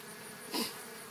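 A queen bee inside a small cage gives a brief buzzing burst midway, close and fairly faint, over a steady low hum.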